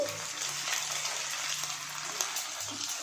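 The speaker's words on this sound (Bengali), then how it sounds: "একে একে সব তেলের মধ্যে দিয়ে দিচ্ছি।" Egg-coated potato roll samosas dropped one by one into hot oil in a wok, a steady close bubbling sizzle with a faint hiss running throughout.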